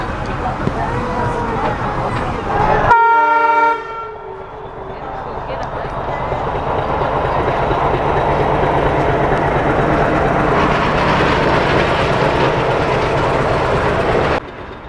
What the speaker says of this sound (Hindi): यहाँ पे हमारी क्रॉसिंग होती है मैलानी से आने वाली मीटर गेज पैसेंजर ट्रेन से, जो बहराइच की तरफ जा रही